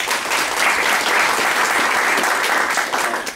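An audience at a public meeting gives a round of applause, many hands clapping together in a loud, dense burst that stays steady for a few seconds before easing off.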